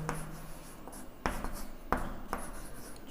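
Pen or chalk scratches out a maths working for Class 10 polynomials in quick strokes, with a few sharper taps between them, close and quiet.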